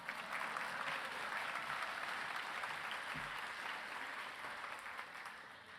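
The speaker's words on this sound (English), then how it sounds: "you can applaud for Kyle." Gala audience applauding at a Spirit of Aloha dinner event, a broad, even roar of many hands clapping that stays steady throughout and eases slightly at the close.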